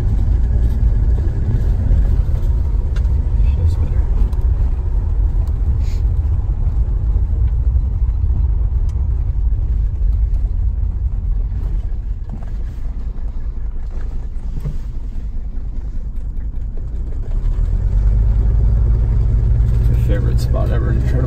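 An old diesel Mercedes with freshly replaced pre-chambers, heard from inside on a road test drive: a loud, steady low engine rumble that eases in the middle and then swells again as it pulls away, with someone talking over it.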